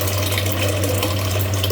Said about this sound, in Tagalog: Lalagyan natin ng tubig para mag-start na tayong magpakulo ng tubig natin.